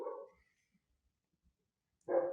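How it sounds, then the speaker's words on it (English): Dogs bark in the background, two muffled barks separated by a couple of seconds of quiet, moderately near and alone without talk. "could you guys hear these dogs?"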